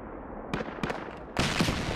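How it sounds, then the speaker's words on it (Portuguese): A bomb explodes in the Roblox war game Operation Overlord: several sharp blasts strike in quick succession, then a loud, sustained roar of explosion and debris takes over and holds to the end. "É uma bomba."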